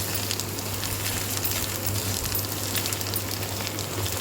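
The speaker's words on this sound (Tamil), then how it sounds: "இது போல் நல்லா வதக்கி விட்டுக்கலாங்க." Perandai (adamant creeper) being sautéed in a pan makes a steady close sizzle and faint crackle that stays even and continuous, with no talking.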